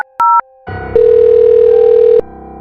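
Telephone dialing: two short, loud beeping key tones, then a brief pause and a steady, loud tone held for over a second, cutting off abruptly, with no voices.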